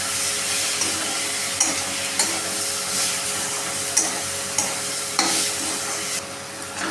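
Soaked moong dal is sautéed in a pan, a loud near sizzle under repeated scraping and stirring strokes at an uneven rhythm, with no one talking.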